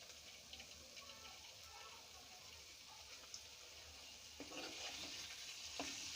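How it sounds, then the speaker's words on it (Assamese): Liver sizzles and crackles as it fries in a kadai for a liver dry fry, with a steady low hiss and occasional scraping stirs that grow a little louder toward the end. A voice may murmur faintly beneath it. "কেৰাহীত দি দিম"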